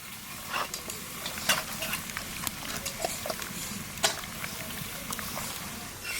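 Pomfret fish is mashed and mixed by hand with a ground paste of turmeric, mustard and poppy seed, making close, wet squelching and slapping sounds in an irregular rhythm over faint background hiss.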